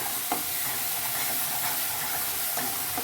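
A mustard and poppy seed spice paste fries in hot oil for a fish curry, giving a loud, steady, close sizzle with a few brief stirring scrapes and no talking.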